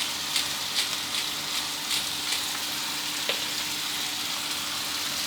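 Chicken with banana peppers stir-fried in a pan, a continuous close sizzle with regular spatula strokes roughly every half second and an occasional clink, no voices.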